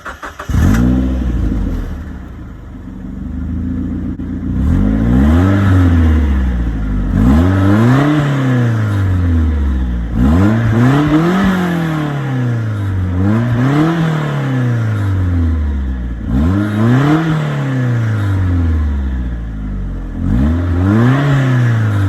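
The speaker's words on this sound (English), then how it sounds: "2004 Mazda Speed Miata. Has super low miles, very clean engine." A 2004 Mazdaspeed Miata engine is revved repeatedly, each rev climbing sharply in pitch and then dropping back to idle, in a steady rhythm of about six pulls, close and loud.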